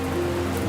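Steady icy rain falling on a surface, a continuous dense patter at even loudness with a low steady hum underneath.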